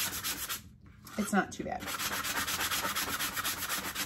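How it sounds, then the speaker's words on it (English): Hand sanding of a wooden tobacco basket, a steady scratchy rubbing that runs nearly the whole time, pausing briefly near the start as a woman makes a short remark. "While I'm sanding this"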